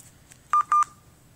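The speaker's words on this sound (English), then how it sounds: "Phone's freaking out. Out of battery." A mobile phone gives a low-battery alert: a few short electronic beeps in a quick cluster, loud and close, with a faint tone trailing off and no talk.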